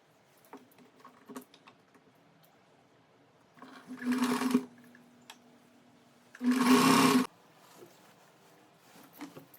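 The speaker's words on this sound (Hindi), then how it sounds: "दोनों साइड को सिल लेंगे।" A sewing machine stitches both side seams of a women's suit in two short, steady whirring bursts, with the second louder and more sustained, separated by quiet handling noises.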